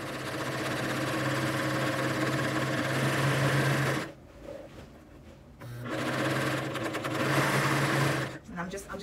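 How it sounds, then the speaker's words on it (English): A serger overlocks fabric edges in two steady, fast-running bursts of stitching, with a quiet pause between them, close and mechanical. "So let me go ahead and serge these"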